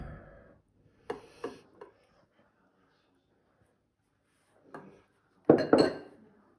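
Metal utensils clink against a bowl as grey shrimp are folded into a croquette mixture with egg yolks, a few short scraping knocks in separate bursts, with the loudest cluster near the end.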